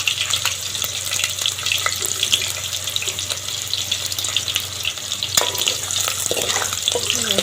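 Chillies roasting in hot oil in a pan, a continuous bright crackling sizzle with scattered pops, heard up close for several seconds without talk.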